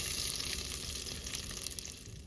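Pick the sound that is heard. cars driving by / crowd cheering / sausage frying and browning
sausage frying and browning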